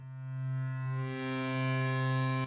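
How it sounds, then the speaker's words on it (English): A sustained synthesizer tone with rich harmonics played through a reverb effect in the miRack modular synth app on iPad, swelling slightly and ending abruptly after a couple of seconds. "A reverb directly in miRack"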